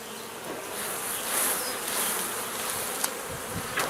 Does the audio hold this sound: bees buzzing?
yes